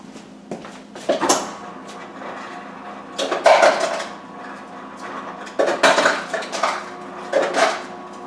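Ice is scooped and handled for a shave ice machine: bursts of hard clattering and rattling knocks come in uneven clumps, close and fairly loud, with no talk.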